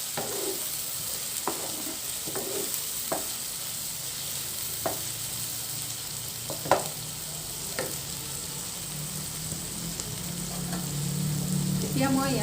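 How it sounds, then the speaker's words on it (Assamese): Onions frying in a pan for an Assamese chicken curry with papaya: a steady, dense sizzle throughout, close by, with occasional soft scraping and stirring knocks from a utensil against the pan. "পিঁয়াজখিনি অলপ ৰঙচুৱা হ'ব লাগিব।"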